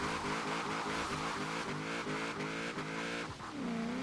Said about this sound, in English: straight burnout car, just laying strips down the road here